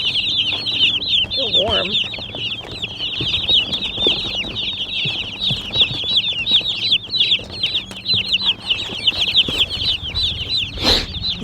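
Dozens of newly arrived Cornish cross chicks peep in a constant high-pitched chorus close by, with brief soft voices over the chirping.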